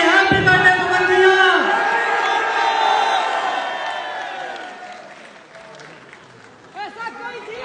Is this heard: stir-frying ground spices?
no